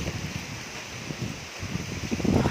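Strong gusty wind on a dark, hot May afternoon blows steadily through foliage, giving a continuous near rustle and broad noisy hiss that swells louder toward the end, with no voices.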